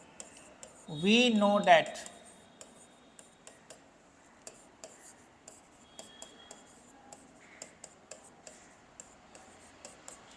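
Chalk or pen tapping and scratching out maths during a vector algebra lesson, a series of short, faint, irregular ticks spread across a quiet room after a brief spoken phrase.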